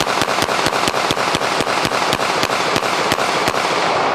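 Rapid string of CZ-75B semi-automatic pistol shots fired on a range, about fifteen sharp loud cracks at a steady, fast rhythm over continuous background noise, with no talking.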